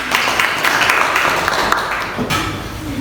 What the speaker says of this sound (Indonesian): Aplaus untuk Ayu Wahyuni.